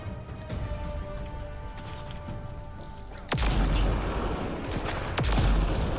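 Gunfire in the video game Mass Effect: Andromeda erupts as heavy, booming shots, a big blast near the middle followed by sustained loud firing and another sharp impact, over a faint ambient hum.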